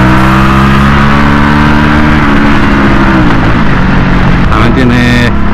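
An Aprilia Shiver 900 naked motorcycle engine runs with a loud, continuous throbbing drone and slight shifts in pitch, while someone talks over it.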